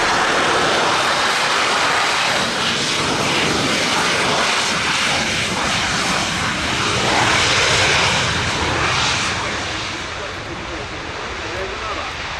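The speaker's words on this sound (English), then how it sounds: "As you heard, the Spanish Navy Harrier." A Spanish Navy Harrier jet roars past at an airfield, a broad, loud sustained rush that swells slightly and then eases as it moves away.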